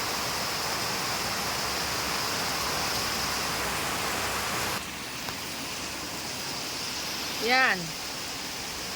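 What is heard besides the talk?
heavy pouring rain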